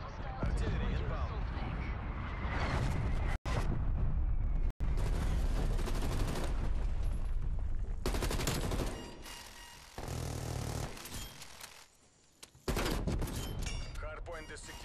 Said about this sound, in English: Artillery inbound.